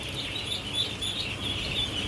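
Ducklings on a farm give a repeated thin, high chirping peeping, fairly faint over a low background hum, with no talking.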